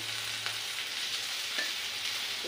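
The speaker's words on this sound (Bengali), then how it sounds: "আস্তে আস্তে পেঁয়াজ, কাঁচা লঙ্কা কুচি আর টমেটোটা দিয়ে দিচ্ছি" Onion, chopped green chilli and tomato sizzle in hot oil for chana masala, a steady broadband crackle with a few soft clinks, close and alone.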